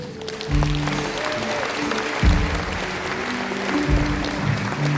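A congregation at an evangelization seminar applauds to acclaim Jesus, with bursts of clapping swelling in waves over sustained keyboard-like tones.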